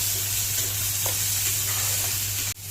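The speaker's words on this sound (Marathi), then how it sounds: "आणि नंतर टाकलं ठेचलेला आलं आणि लसूण मस्तपैकी भाजल्यानंतर भरपूर असा कांदा टाकला" Chopped onions hiss and sizzle steadily in a hot pan with crushed ginger and garlic, a continuous close frying crackle that ends in a brief clatter.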